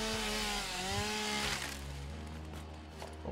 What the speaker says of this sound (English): Grab our good old trusty chainsaw.